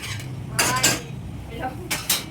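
Steel pots and dishes clatter in a home kitchen as they are set on to wash, with several sharp metallic clanks and rattles in quick bursts over a quiet background.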